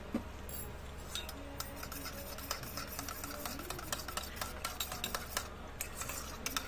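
Yogurt mixed with chili, turmeric and asafoetida gets mashed in a bowl, giving soft, quiet, repeated taps and scrapes of a utensil in a steady rhythm.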